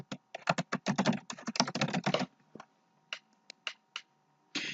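Fast clicking keystrokes on a computer keyboard, a dense run of close taps followed by a few sparse, separated presses with quiet gaps between them.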